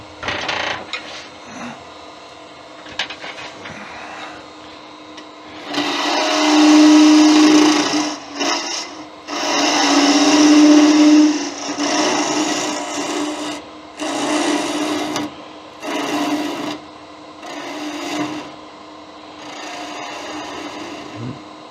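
Wood lathe turning a small wooden witch figure with the tailstock removed, the tool cutting in loud raspy bursts that swell and drop over a steady motor hum, no talking.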